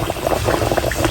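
A piece of kachori dough dropped into moderately hot oil, giving a steady close bubbling sizzle for a brief moment with no talk.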